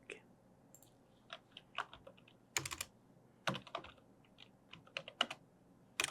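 Quiet, close typing on a computer keyboard, with bursts of soft key clicks separated by short pauses.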